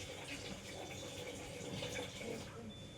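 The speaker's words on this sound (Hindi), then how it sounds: "ग्लास में डालिए" Water poured steadily into a glass during a demonstration, a continuous soft splashing trickle that runs evenly for the whole stretch at a moderate distance, with no talking over it.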